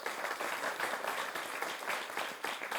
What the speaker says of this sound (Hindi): हम कलाकारों की तरफ से एक बार जोरदार तालियां।